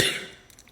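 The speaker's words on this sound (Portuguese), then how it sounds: "eu tô com uma tosse terrível" A single sharp cough bursts out at the start from a woman with a bad cough, then trails off into quiet room noise with faint small sounds.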